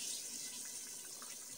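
Water pours steadily into a cooking pot while matar gosht is being prepared, a soft continuous splashing stream with no speech over it.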